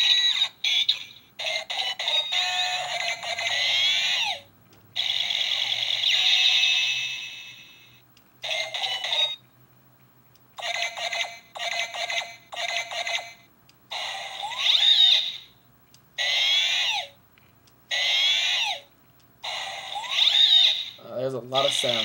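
A string of short electronic sound effects from a Kamen Rider W Beetle Phone toy, bright beeps, chirps and warbling tones in irregular bursts with brief pauses between them.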